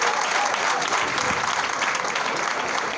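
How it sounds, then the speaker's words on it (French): Applause from a crowd at an opposition political gathering, a dense, continuous wash of clapping held at an even level for the whole stretch. "Il faut applaudir."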